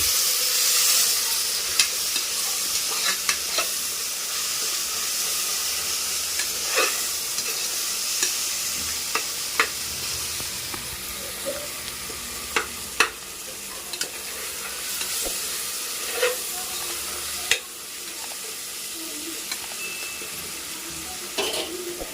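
Curry with kasuri methi and a pinch of turmeric sizzles and fries in a pan while a spoon stirs it, steady hissing broken by repeated clicks and scrapes against the pan, close and fairly loud.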